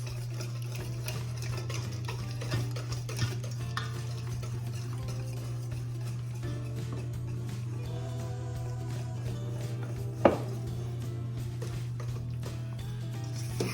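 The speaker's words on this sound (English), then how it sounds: "So now I've added the cocoa powder, sugar, the walnuts, and giving them all a mix" A spoon stirs brownie batter of cocoa powder, sugar, eggs and walnuts in a bowl, soft scraping and light clinks repeating quietly over a steady background hum, with one sharper knock near the end.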